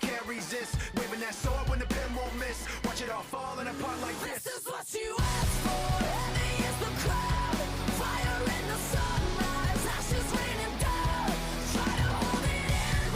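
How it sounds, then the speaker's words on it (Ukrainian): Distorted classic rock guitar plays through a full band mix with driving, raw-sounding drums in a League of Legends song, loud and continuous, with a short dropout around the middle before the band crashes back in. "Прям така класична рокова гітара."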